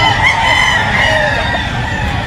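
Roosters and stags crow loudly and close at a busy poultry market in Bulacan, with a long drawn-out crow and clucking over crowd noise and faint background voices.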